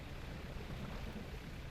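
Faint, steady storm noise in the fishing game Dredge, a soft wash of rain and low rumble over choppy water, heard alone for a couple of seconds.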